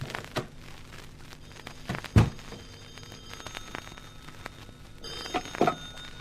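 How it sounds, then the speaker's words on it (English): A telephone rings inside a penthouse during a radio drama, with faint repeated ringing tones running under a noisy background that includes a few thumps. "I could hear the phone ringing inside,"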